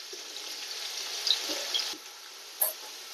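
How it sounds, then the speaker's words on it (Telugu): Sliced onions fry in a pan until brown for a mutton pulao, giving a soft, continuous close sizzle with a few faint clinks and stirring touches. "ఉల్లిపాయలు బాగా వేగాలండి."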